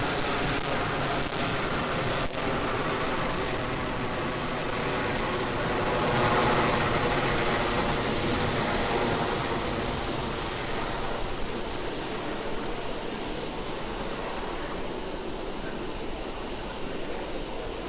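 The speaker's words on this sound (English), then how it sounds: "we've just had a nominal liftoff of our Falcon 9 vehicle carrying our Starlink payload on its way to its targeted orbit" A SpaceX Falcon 9 rocket carrying a Starlink payload lifts off with a continuous, broad, rushing roar that swells slightly midway and holds steady for nearly eighteen seconds.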